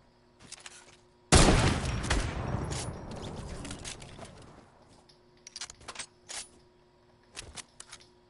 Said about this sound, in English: It sounded like a deagle.